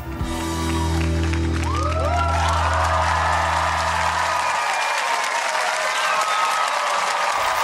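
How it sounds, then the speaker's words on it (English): A ballroom dance competition audience breaks into loud, sustained applause and cheering for a standing ovation, dense clapping with scattered whoops as the closing music cuts off. "And we got a standing ovation."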